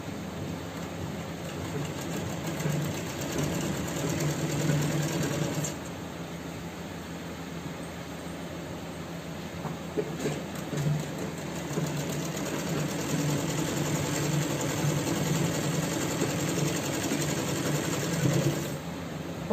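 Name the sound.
sewing machine stitching pants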